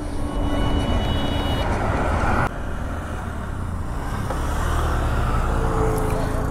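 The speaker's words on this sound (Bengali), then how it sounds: "সামনে ট্রেন যাচ্ছে" A train passes close in front, a loud continuous rumble and roar with a brief dip partway through before the heavy noise builds again.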